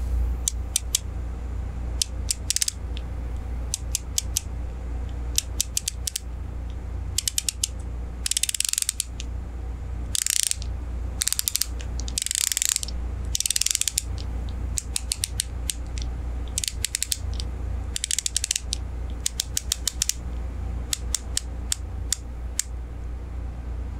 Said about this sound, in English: how does a Ball bezel sound and feel?